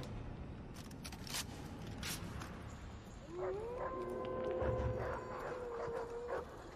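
Dogs howl in Far Cry 3, a rising drawn-out howl entering midway and holding over a scuffling, clattering game ambience with faint distant calls.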